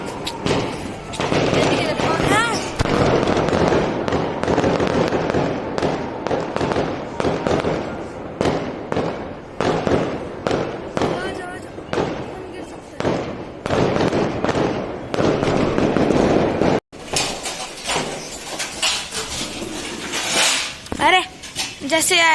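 Firecrackers burst at a nearby wedding in rapid, crackling volleys that go on for over twenty seconds. The sharp pops range from near to distant, with voices talking faintly underneath.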